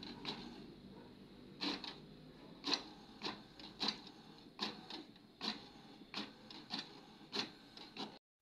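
An HP Deskjet Ink Advantage 2676 inkjet printer running a test page after an E3 error repair: a regular series of short mechanical whirs and clicks from the print carriage, close and fairly quiet with near-silent gaps between passes.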